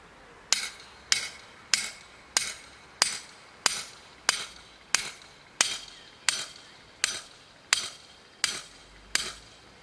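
Sharp metallic hammer strikes ring out at a slow, even pace, about fifteen evenly spaced blows into hard ground, each with a short ringing decay, close by.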